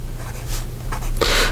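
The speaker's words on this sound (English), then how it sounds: "we go with the writing sample for the Birmingham Pen Company" Birmingham Pen Company Model A fountain pen with a medium steel nib writing on paper, a soft continuous scratching of nib strokes that grows slightly louder toward the end, close and alone.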